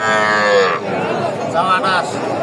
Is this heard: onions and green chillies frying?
no